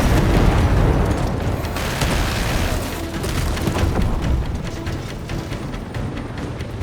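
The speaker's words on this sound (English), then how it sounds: "Firing missile." A missile fired and exploding in the video game Call of Duty Black Ops 6: a loud, continuous booming roar with heavy low rumble and crackling debris, sustained throughout and gradually easing.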